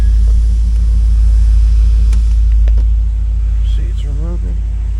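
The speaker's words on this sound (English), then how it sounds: "Motor runs nice." A 2006 Pontiac GTO with a 6.0L LS2 V8 idles steadily at a salvage yard, a loud low rumble holding throughout, while a person talks briefly near the end.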